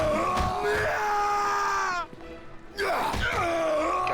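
Screaming and groaning from another room in the video game Neverwinter Nights, loud and drawn out, broken by a short quiet gap before the cries resume.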